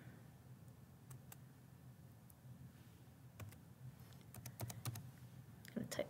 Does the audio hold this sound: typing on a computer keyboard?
yes